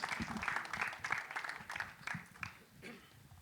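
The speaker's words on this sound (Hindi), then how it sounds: "जोरदार तालियां, please" Audience applause at a Bollywood film trailer launch event, a broad wash of clapping that swells and ebbs over several seconds with a few sharper claps standing out, moderately distant in a large hall.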